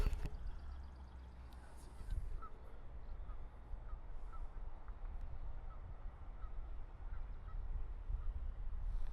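Geese honking beside a river, a string of short, moderately distant calls repeating through steady outdoor background noise, with a low rumble underneath.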